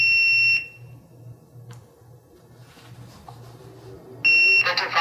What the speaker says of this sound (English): you'll hear a beep and then the device will talk